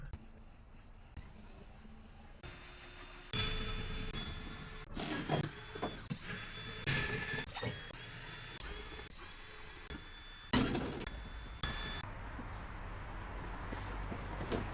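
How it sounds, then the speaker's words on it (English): A power drill whirs in short bursts with pauses between, close by, removing screws from plywood inside a Volkswagen Transporter T6 van, alongside clicks and rattling of handling screws. "Just gonna stick these in a drill now and get the remaining screws whipped out"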